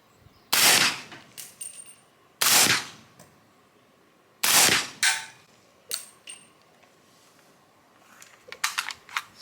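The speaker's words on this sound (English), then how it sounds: "Now we'll go 3 rounds suppressed and see if we can tell the difference here." Three suppressed rounds from a gun fitted with a SureFire SOCOM RC2 suppressor, loud sharp reports evenly spaced about two seconds apart, each followed by brief metallic clatter and echo, then small clinks of handling.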